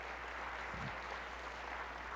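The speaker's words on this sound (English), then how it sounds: "Let's give her a round of applause." Brief, faint audience applause at a seminar event as a volunteer is called up to speak, a soft continuous patter of clapping from a room of people.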